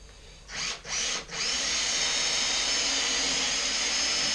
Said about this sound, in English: Makes sense to just drill it nice and easy.